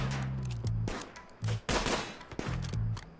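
Gunfire in RimWorld: rapid bursts of close, loud shots in irregular volleys, some clustered like automatic fire, with no talking.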